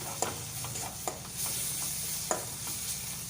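Masala spice paste for a tilapia curry sizzles steadily in oil in a pan, with a few quick scrapes of a stirring spoon cutting through the frying noise.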